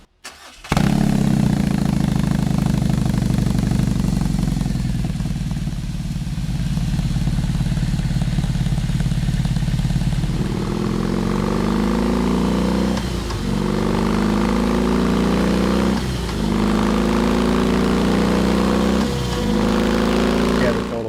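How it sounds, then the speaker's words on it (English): A custom BMW motorcycle engine fires up and settles into a loud, close idle, then gets blipped in several sharp revs that rise and fall. "first thing after you see a bike, fire it up. Let's hear it."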